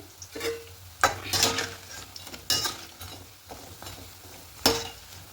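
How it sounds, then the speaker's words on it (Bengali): Cabbage pakoras fry in oil over a medium flame, a low steady sizzle broken by several sharp clinks and scrapes of a utensil against the pan. "ভাজাটা একদম হয়ে যাচ্ছে প্রথমে মিডিয়াম ফ্লেমে এগুলোকে ভাজতে হবে"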